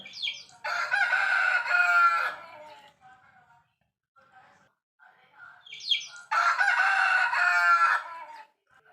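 Two loud rooster crows a few seconds apart, each a long drawn-out call, with faint clucks in between.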